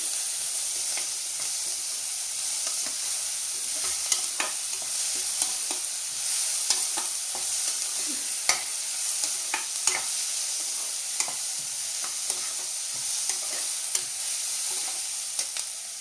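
Ginger garlic paste is stirred into onions frying in oil for a chana dal curry: a soft, steady sizzle under repeated light clicks and scrapes of a spoon against the pan, close and unhurried.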